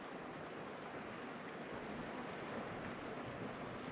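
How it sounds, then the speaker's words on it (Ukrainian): Sea surf on the Turkish coast along the Lycian Way, a steady broadband wash of waves and wind, fairly loud and continuous with no voices over it. "Один звук прекрасний, звук моря"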